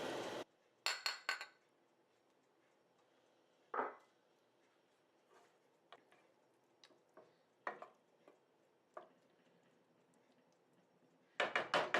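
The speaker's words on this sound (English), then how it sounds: "So now just put the lid back on and let that sit on low for the last 5 minutes" A pot lid set back on a pot of simmering aloo gobi, a few scattered metallic clinks and knocks separated by quiet gaps, ending in a short cluster of clatter.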